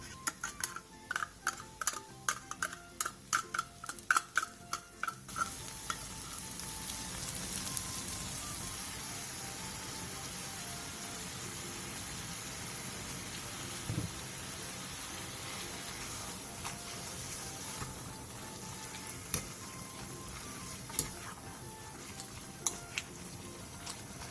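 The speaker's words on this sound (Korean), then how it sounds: "팬에 묵은지와 참기름 2스푼, 참치캔 1개, 설탕 1스푼을 넣고 김치가 숨이 살짝 죽을 때까지 중약불에서 약 5분 정도 볶아주세요." Aged kimchi stir-fried in a pan with sesame oil, canned tuna and sugar over medium-low heat: a few seconds of light tapping and clicks give way to a steady, even sizzle with occasional soft stirring knocks.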